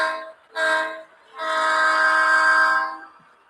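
A model train sound decoder plays its horn and engine sound files in three bursts: a short blast, a second short burst, then a long sustained tone, loud and close with no talk.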